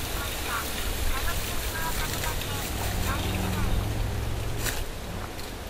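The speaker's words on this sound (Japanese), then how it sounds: "バイクの音がしたけど" A distant motorbike engine drones low beneath steady wind and outdoor noise, swelling briefly midway before fading again.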